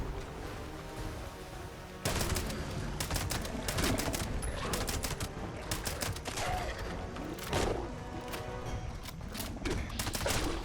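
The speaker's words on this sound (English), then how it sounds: "Let's try a grenade over there" Rapid, dense bursts of explosions and gunfire-like cracks crowd together in Fallout 76, loud and continuous after a quieter opening, with sharp repeated blasts layered over a rumbling background.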